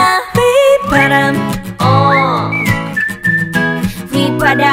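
A bright whistled melody rides over a pop track with sung vocals and a steady beat.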